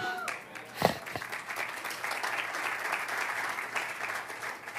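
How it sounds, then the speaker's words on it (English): A church congregation applauds in a sanctuary, a steady wash of clapping that rises after a brief spoken word and holds at moderate loudness throughout. "I hope you were clapping a little bit louder"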